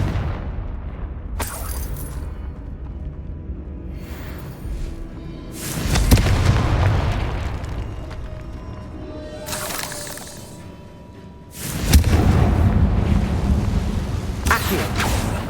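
Confringo fire spells burst in Hogwarts Legacy, three heavy booming blasts with crackling shatter, each swelling loud and then fading out in a rumbling tail between bursts.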